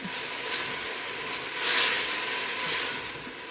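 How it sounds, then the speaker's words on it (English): A quarter cup of ginger sizzles and is stirred in a pot over medium-high heat with onions and garlic, producing a loud, steady hiss that swells briefly mid-stir, no talking. "I'll go ahead and add in that, like a 1/4 cup, not 1/4 of a spoon of my ginger. I'm going to stir that up."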